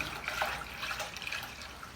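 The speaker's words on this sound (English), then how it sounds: "so I'm going to add a little bit of water." Water trickles and splashes steadily into an ultrasonic cleaner holding cleaning concentrate, a faint, close pour with no voices.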